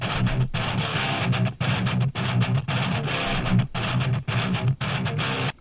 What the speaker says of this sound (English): let's go for quite a chuggy riff